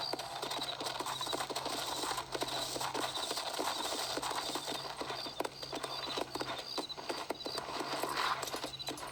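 Horse hooves gallop in a steady, rapid clip-clop rhythm in the game Red Dead Redemption, close and continuous under a low background hum.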